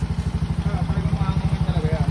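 A motorcycle engine idles close by after an oil change, its rapid low thumping pulses steady and even throughout, with the engine already warm.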